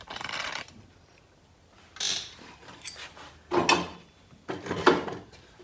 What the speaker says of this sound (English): going to loosen the 2 nuts down here at this end